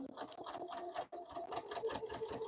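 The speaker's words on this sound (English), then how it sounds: "I'm top stitching and then we're going to sew this bag up" A sewing machine top stitching a fabric zipper pouch runs in close, steady bursts of rapid needle chatter, with a brief pause partway through before the motor picks back up.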